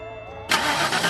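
A cartoon outer space car in a Daniel Tiger video game starts up with a sudden bright engine burst that holds steady after a brief quiet lead-in.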